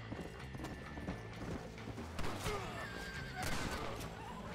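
Horse neighing and hooves galloping in Red Dead Redemption on Xbox One, a steady clip-clop rhythm with a whinny breaking through over gunfight game sounds, fairly close and continuous.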